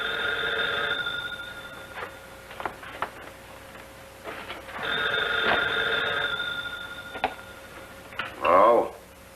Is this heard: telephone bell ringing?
yes